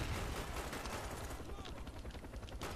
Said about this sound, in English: Semi-automatic fire